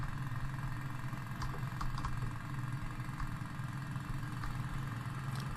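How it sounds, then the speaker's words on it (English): A compressor runs in the demolition game Demolition Company Gold, humming as a steady mid-pitched engine drone with a constant vibrating throb. A few faint ticks sit over it and no one speaks. "Turn on the compressor."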